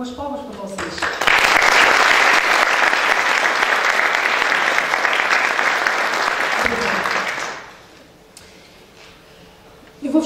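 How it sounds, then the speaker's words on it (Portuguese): An audience claps loudly and steadily for about six seconds at a presentation on administrative assistant work, then the applause fades out into quiet room sound. "umas palmas para vocês"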